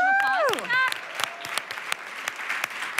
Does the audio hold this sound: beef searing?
no